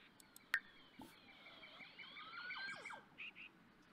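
Siren tones from the video game The Sims 4: wavering, sweeping electronic wails at moderate loudness, with a few sharp chirps near the start and no voices.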